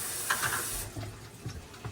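A quarter cup of water poured into a chocolate dessert mix, a brief soft splash and trickle heard close and alone, fading within about a second.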